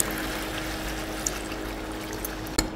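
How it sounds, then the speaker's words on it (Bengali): Water is poured into a pot of spiced chicken curry with green chillies, giving a soft, continuous trickling stream at moderate level, capped by a brief knock near the end, with no talk. "দিয়ে দিচ্ছি পানি।"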